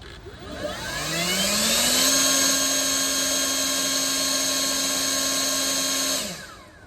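A Kobalt 80V battery leaf blower's steady whirring motor spins up, holds an even high-pitched whine for several seconds, then winds down, with a thin rushing airflow.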